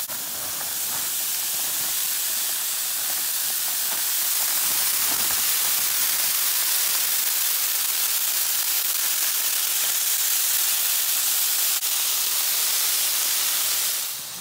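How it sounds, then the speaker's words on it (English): Sausage and vegetables simmer in a pan on an RV stove, a steady loud hiss and sizzle running continuously with faint crackles throughout. "So we just let this simmer for a little bit on there"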